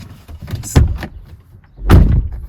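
Sliding door of a sound-insulated DIY camper van being shut twice, each a dull, muffled thud with a short low rumble, close by and fairly loud with a quiet pause between.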